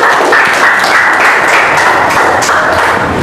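A classroom audience applauds a student group after their presentation, with dense, steady clapping filling the room at close range.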